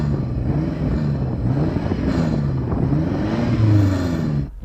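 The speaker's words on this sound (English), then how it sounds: "Go on, rev up yours, Jan." A BMW M5 Competition engine revved up to its soft limiter, a loud, steady, close engine drone that rises and falls in pitch, with a sustained high hold before cutting off abruptly at the end.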